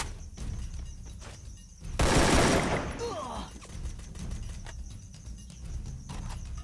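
Gunfire in the mobile shooter Free Fire, heard as a dense, loud burst of shots lasting about a second, set against a steady game background hum and faint scattered sounds before and after.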